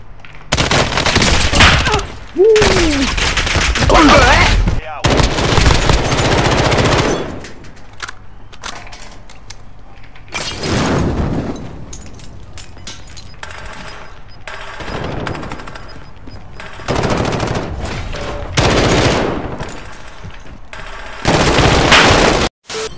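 Loud bursts of automatic gunfire from a gun in Call of Duty Warzone, coming in several heavy volleys with short gaps between them, up close and dominating the mix.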